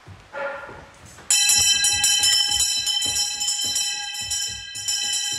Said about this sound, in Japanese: けたたましい鈴の音が鳴り響く。